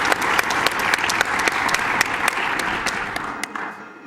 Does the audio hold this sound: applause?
yes